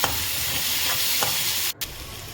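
Tomato masala with garam masala stirred in an oily pan, a steady close hiss and sizzle with soft scraping strokes, broken by a brief dip in sound near the end, with no talking.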